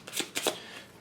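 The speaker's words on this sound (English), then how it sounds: "We're going to shuffle this deck" A deck of cards is riffled and shuffled in a few quick bursts of crisp flutter, close and fairly quiet, before dealing in a tabletop game.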